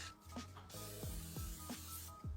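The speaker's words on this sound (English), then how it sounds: "I'm going to add some Pam spray just so that the lean ground beef doesn't stick" Pam cooking spray hisses into a pan before lean ground beef goes in: a soft, steady broadband spray lasting over a second amid faint kitchen clatter, quiet and close.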